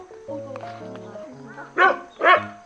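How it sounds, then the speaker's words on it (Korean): Small dog barking outdoors on a farm, two short sharp barks near the end following quieter yips, with people talking nearby. "어? 강아지?"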